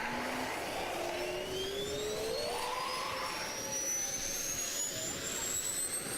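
Auxiliary power unit of an F-22 Raptor spooling up in a flight simulator, a steady loud whine rising in pitch over several seconds with a broad roaring hiss underneath, continuous throughout.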